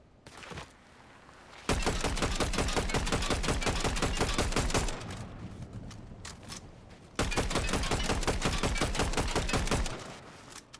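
Fortnite Zero Build gunfire comes in two long bursts of rapid, evenly spaced automatic shots, loud and sustained, with scattered single shots in the quieter stretch between them.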